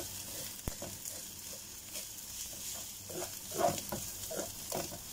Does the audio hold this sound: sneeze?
no